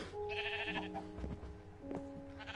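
Sheep in Minecraft: PS4 Edition bleat softly, with two or three short, wavering calls close together against a quiet background.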